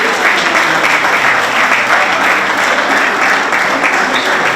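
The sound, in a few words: round of applause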